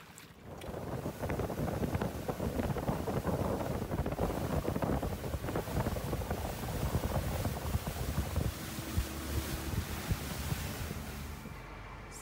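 Steady roar of a moving boat at Koh Samui with wind buffeting the microphone, continuous and fairly loud for the whole stretch, no one speaking.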